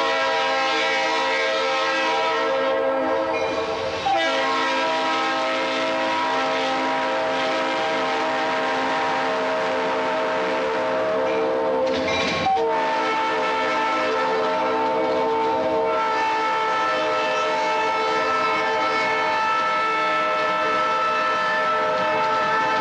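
A train rolls past with a long, loud, sustained horn blast dominating throughout, with rumbling underneath, a couple of brief dips in the sound, and no voices.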